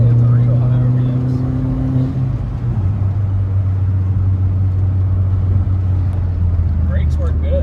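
A VW MK4 Jetta 1.8T heard from inside while driving, its engine a loud, steady low drone with the pitch shifting as it revs, and people talking over the engine noise.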